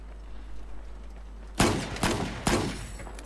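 Three sharp pistol shots in Battlefield 4 ring out after a stretch of quiet game ambience, spaced about half a second to a second apart, loud and close with no talk over them.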